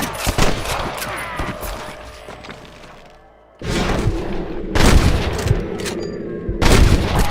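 Repeated gunshots in Red Dead Redemption, with loud clustered bursts of fire, a brief lull and then more close, heavy volleys.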